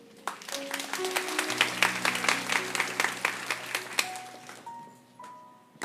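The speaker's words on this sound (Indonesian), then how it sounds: "saya mau mendengarkan tepuk tangan untuk Tuhan" Clapping from a church congregation during a Christian sermon: a burst of brisk, rhythmic applause over sustained organ or keyboard chords that ends in a lingering held note.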